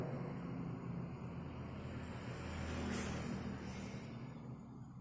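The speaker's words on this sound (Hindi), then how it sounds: "उससे थोड़ा गाड़ी की आवाज़ आएगी" Road traffic passing outside a room, a steady broad rumble and hiss that swells slightly midway, faint and continuous with no talking.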